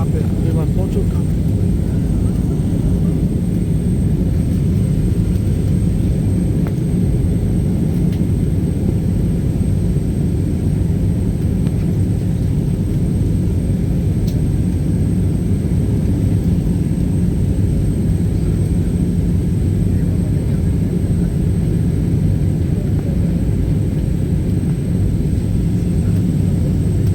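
A constant, loud, low cabin rumble fills an airplane in flight through rainy weather, droning steadily without letup.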